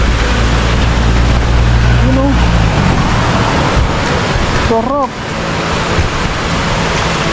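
The Agos river flows in Infanta, Quezon, a loud, steady wash of rushing water with wind noise, while a person speaks briefly over it.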